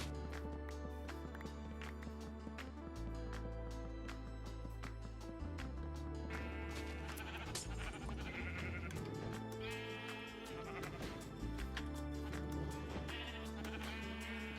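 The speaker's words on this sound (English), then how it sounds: "let's start off by getting all these sheep in a pen." Sheep bleat repeatedly over a steady, busy game soundtrack, the calls rising above dense music throughout.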